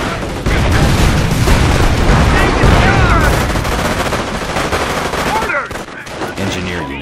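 Dense, loud gunfire and booming explosions from the World War II strategy game Company of Heroes: Tales of Valor, with rapid machine-gun bursts and rifle shots layered into a continuous barrage that eases slightly near the end.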